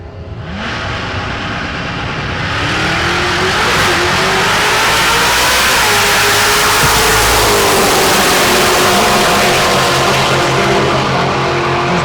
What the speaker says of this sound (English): Beautiful run for Randall Reed in that white Fox body.